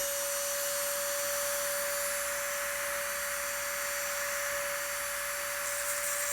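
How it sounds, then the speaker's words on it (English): A Dremel rotary tool fitted with a coated ball head grinds out spot welds on a 719cc Kubota diesel-powered Honda Insight, a steady high-pitched whine holding one pitch over a broad hiss, continuous and alone throughout. "for this, we're going to use a Dremel with a coated ball head"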